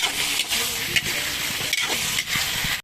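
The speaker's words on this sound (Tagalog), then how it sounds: "lulutuin muna natin ang mga tomatoes bago natin igisa ang ating alamang" Tomatoes fry in a hot pan with a continuous bright sizzle, periodically interrupted by stirring scrapes, close and fairly loud.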